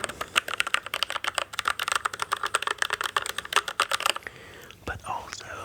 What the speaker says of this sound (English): but also when you just lightly tap on the keys.